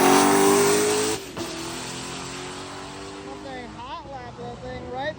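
A drag race car on a hot lap at a track with a sketchy surface, its engine roaring loud at first, then falling to a lower drone with rising and falling revs, with a voice faintly beneath.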